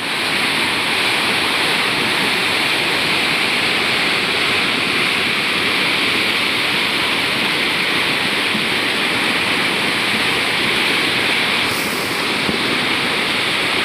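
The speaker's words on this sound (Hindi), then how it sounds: "आप लोग आवाज़ सुन रहे होंगे कितने भयंकर भयंकर पत्थर आ रहे हैं" A raging mountain river carrying large rolling stones rushes with a loud, steady roar of churning water that stays constant and close from start to finish.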